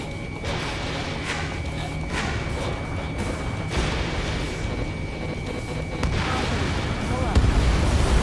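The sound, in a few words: missile launch and explosion in Ace Combat 7 video game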